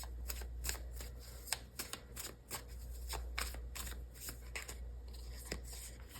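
Tarot cards shuffled by hand for a love reading, a quick run of crisp riffling and flicking bursts in uneven rhythm, close and fairly quiet, with no talking.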